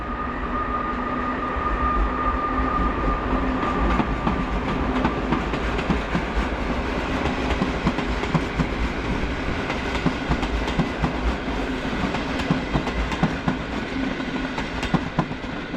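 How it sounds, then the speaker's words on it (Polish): An Intercity passenger train departs a large city station, rumbling loudly and steadily with rhythmic wheel clatter and a sustained mechanical whine throughout. "W dalszą drogę rusza pociąg Intercity Fałat Poznania do Przemyśla."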